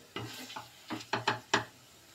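Potato halwa with chopped dry fruits being stirred in a pan, with a handful of soft scraping strokes in an uneven rhythm, close up and with no talking.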